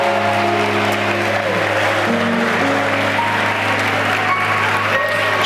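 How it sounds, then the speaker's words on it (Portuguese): Church congregation applauding during an evening worship service, a steady dense wash of clapping that fills the whole stretch at even loudness, with organ or keyboard tones sustained underneath. "aplauda Jesus Cristo nesta noite, glorifica Ele"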